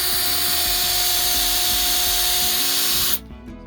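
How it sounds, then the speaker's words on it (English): Power drill pre-drilling holes in wood for a raised garden bed, a steady high whine held close and loud for about three seconds before cutting off abruptly, leaving a quieter background. "So I'm just going to pre-drill 2 holes here."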